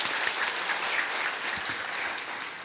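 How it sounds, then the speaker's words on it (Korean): A church congregation at a Sunday worship service claps together, dense sustained applause at moderate level across the whole short stretch with no talk. "다 같이 한번 박수 한번 칩시다"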